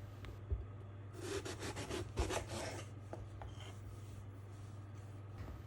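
A knife cuts two aubergines lengthwise on a board, making soft rasping, scraping strokes with a couple of light knocks, faint and close, with no talk.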